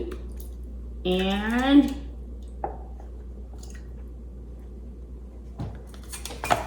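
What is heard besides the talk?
pouring food from cooking pouch into soup and stirring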